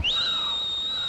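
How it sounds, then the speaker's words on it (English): A single clear, high whistled note rises quickly and then holds steady for about a second, close and fairly loud, with no talking. "She's getting better at whistling."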